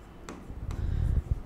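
Chalk or marker scratching across a board during a chemistry lecture, a few close, scratchy strokes and taps with no talking over them.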